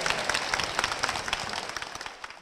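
A church congregation claps in blessing, a short burst of fairly close applause with distinct individual claps that thins out and fades toward the end.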